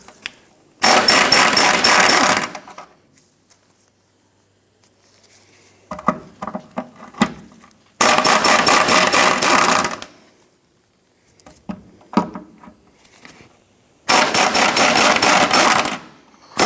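Pneumatic impact wrench loosening four 13mm nuts on the skid plate of a 1997-2006 Jeep Wrangler, three loud sustained bursts of about two seconds each, separated by quieter clinks and handling sounds.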